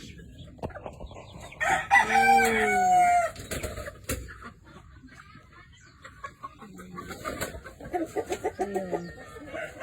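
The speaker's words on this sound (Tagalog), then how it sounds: "Ito yung mga kulungan ng manok niya." A rooster crows loudly nearby by chicken coops, then a second crow follows later, over scattered clucking; a voice speaks briefly.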